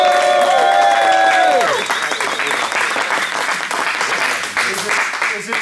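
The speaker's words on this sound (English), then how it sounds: "Round of applause for Carl, please." A small group bursts into a round of applause for Carl, opening with a bright voiced cheer that fades into dense, steady clapping, with scattered voices over it.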